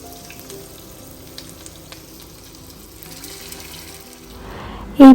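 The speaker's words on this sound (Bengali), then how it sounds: "এই পকোড়া ভাজছি" Marinated chicken pakoras fry in refined oil with a soft, continuous sizzle under running-water-like noise, fairly quiet throughout, ending in a brief loud bump; no speech.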